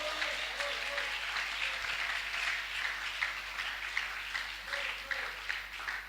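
A church congregation at a Sunday thanksgiving service applauds in a steady, fairly distant wash of clapping, with voices mixed in throughout.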